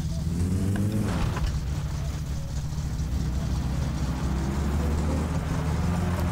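Satsuma car from My Summer Car idling cold with the choke pulled, a steady low engine drone with rising harmonic whine early on, loud and continuous throughout.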